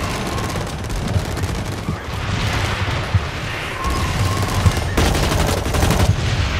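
Gunfire in the shooter video game Blacklight Retribution crackles in dense, rapid bursts over a constant roar of background battle noise, loud and close with no speech.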